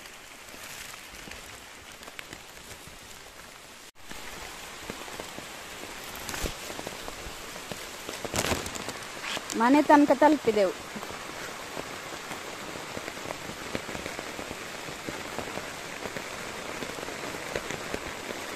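Heavy rain with wind pours down steadily in a continuous close hiss, and a voice speaks briefly partway through.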